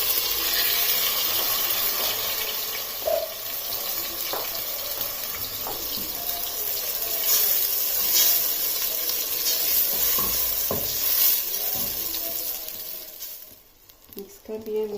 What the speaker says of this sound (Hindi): प्याज, लहसुन, अदरक का जो पेस्ट तैयार किया था ये इसमें डाल देना है।